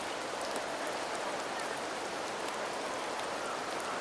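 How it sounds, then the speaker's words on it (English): Steady rain falls over Septimont in the Wuthering Waves video game, a soft, even hiss of drops with no break and no voices. "The rains in Septimont never seem eager to leave this season."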